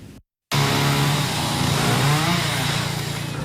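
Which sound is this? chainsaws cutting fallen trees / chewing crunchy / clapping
chainsaws cutting fallen trees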